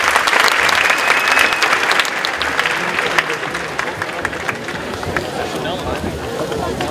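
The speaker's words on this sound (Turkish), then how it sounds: "Gurur tablosuna gelirler bir alkış rica ediyoruz." Sustained audience applause at a book fair talk in Bursa, a dense crowd clapping continuously for the full stretch and easing slightly toward the end.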